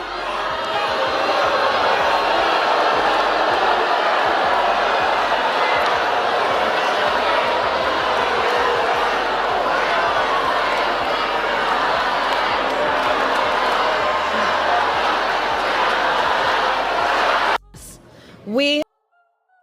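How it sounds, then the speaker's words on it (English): Large stadium crowd booing at a political or public event, a dense sustained roar of many voices at steady high volume that cuts off abruptly near the end. "You're being booed by a whole stadium full of people."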